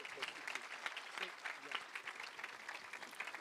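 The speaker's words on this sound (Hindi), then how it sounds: "आइए जोरदार ताली बजाइएगा।" Church congregation clapping loudly in a steady, dense wash of applause, sustained throughout with mixed voices underneath.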